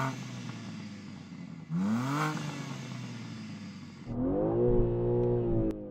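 A BMW M3 Touring engine revs twice, the pitch sweeping up and back down with each throttle blip, loud and close with a steady idle between.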